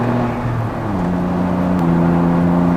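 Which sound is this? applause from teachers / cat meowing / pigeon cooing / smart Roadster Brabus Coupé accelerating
smart Roadster Brabus Coupé accelerating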